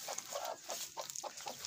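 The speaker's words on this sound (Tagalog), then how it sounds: "Ito po yung ating inahin." Mother hen clucking in a farm coop, a quick run of soft, repeated clucks close by over faint background noise.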